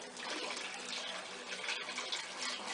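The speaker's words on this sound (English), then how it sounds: "Just pour off a little bit of water." Water poured off from a gold trap sluice made of 2-inch PVC pipe, a continuous close gushing pour with no pauses, moderately quiet.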